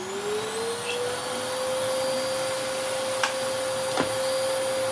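An Electrolux Mondo Z1190e vacuum cleaner, newly restored, runs close by with a steady, loud motor drone and a high whine that rises slightly in pitch at first, then holds. A couple of faint clicks sound over it.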